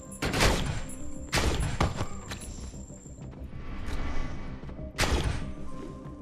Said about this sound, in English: That's a shotgun, dude.